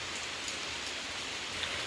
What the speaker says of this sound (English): But here comes more rain